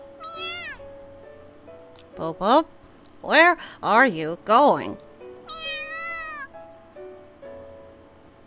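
A cat meows in a few drawn-out, high, sliding calls at the start and end, with a burst of short meow-like cries in the middle and a person speaking between them.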